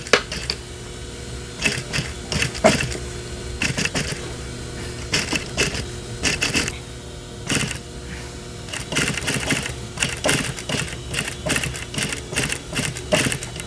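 A sewing machine top-stitches the crotch seam of jeans in repeated short bursts of rapid mechanical chattering, separated by brief pauses and quieter handling noises, close and clear.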